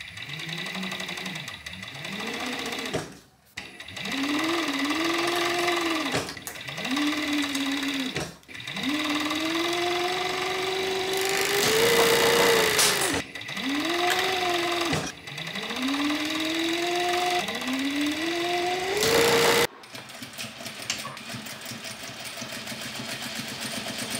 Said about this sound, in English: I'm gonna serge those excess pieces on, and then after I serge them, I'm gonna top stitch them so it lays nice and flat.